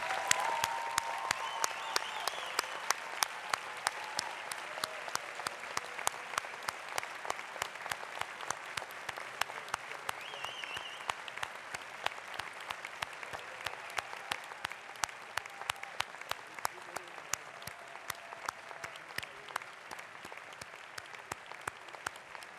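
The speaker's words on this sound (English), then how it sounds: "I invite you in joining me in giving a round of applause to your family, friends, academics and supporters" Sustained applause from an audience at a medical school conferring ceremony, many hands clapping steadily for over twenty seconds in a large hall, fairly even and moderately loud.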